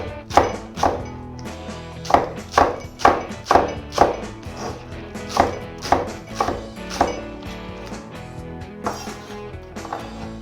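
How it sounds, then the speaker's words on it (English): A knife chops 600 grams of spring onions roughly on a board for cabbage and radish kimchi, a loud, close run of irregular wooden thunks that quicken mid-clip, then thin out and soften toward the end. "This is a 600 grams of spring onion. I'm just gonna slice them roughly."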